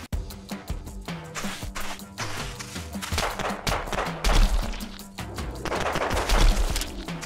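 Gunfire in the video game Reclaim Earth: dense, continuous bursts of loud, close shots and rapid automatic fire with thudding impacts, rising into heavier volleys toward the end, and no voices.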